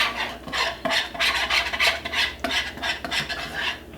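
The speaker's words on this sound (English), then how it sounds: "Now we just want to whisk this flour in there and start letting this brown" A whisk scrapes and rasps rhythmically against a pan while flour is worked into browning gravy for cooking squirrel, brisk strokes close and fairly loud with no talking.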